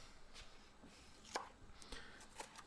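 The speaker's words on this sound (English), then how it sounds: "rough, coarse chopping them up into bigger slices" Vegetables are coarsely chopped on a board for lacto fermenting, a handful of quiet, scattered knife thunks heard up close in a still room.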